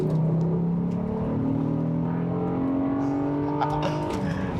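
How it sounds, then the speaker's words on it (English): An Acura TL with a cold air intake revs up through its VTEC crossover, the engine note climbing steadily with a rising intake roar, close and loud with no talking over it. "Oh yes, you can hear the VTEC crossover"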